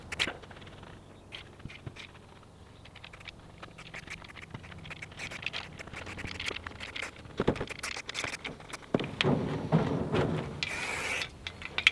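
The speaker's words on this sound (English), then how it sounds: "It's a nice rainy day out here." Rain patters outdoors in a garden under work, a steady scattered tapping that swells louder and denser toward the end, with occasional scuffs and movements close by.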